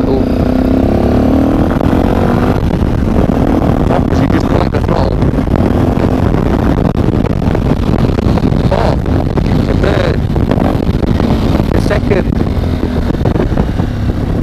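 A Sinnis Terrain motorcycle fitted with a new exhaust accelerates on a test ride, its engine droning steadily and close through heavy wind roar on the microphone while a rider talks over it.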